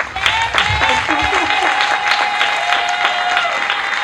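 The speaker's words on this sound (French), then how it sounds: "Je pensais qu'on allait applaudir pour ça." Audience applause at a talk on albinism and society, a dense, steady wash of clapping lasting the whole stretch, loud and close, with a voice and a faint tone threading through it.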